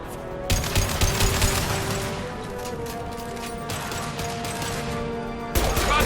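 Heavy bursts of gunfire in Mass Effect 2 Legendary Edition as impact shots are fired, with sharp blasts at the start and near the end and sustained rattling and mechanical clatter between them.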